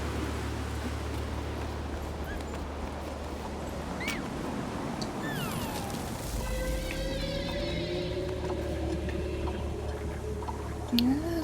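An orca-like creature in the video game Jusant calls with rising and falling whistling cries over a steady windy, watery ambience, the calls moderately loud against the constant background.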